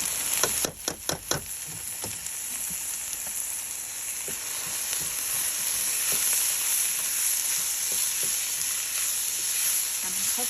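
Soaked, washed freekeh tipped onto browned onions frying in oil for stuffed pigeon, a few sharp clatters at the start, then a steady close sizzle with light stirring taps throughout.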